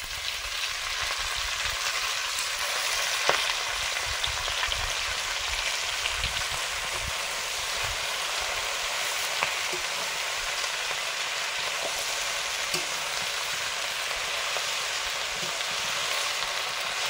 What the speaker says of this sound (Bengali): আলুগুলো ভাজা হয়ে গেছে, শাক দিয়ে দিলাম